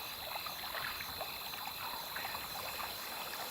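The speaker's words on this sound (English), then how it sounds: "like right now, we can hear the water on the little wheel thing" Flowing water turning a small water wheel in the pixel-art video game Kingdom Shogun, a soft, steady trickling and babbling wash that stays constant throughout, with no talking.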